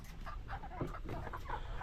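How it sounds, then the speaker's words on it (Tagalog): Pet chickens cluck softly inside their coop, a few short, uneven clucks at moderate distance over a steady low background hum. "Anong nangyayari sa aking mga alagang manok."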